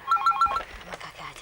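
A telephone rings in short repeated electronic bursts, fairly close and clear, then gives way to indistinct talk and movement.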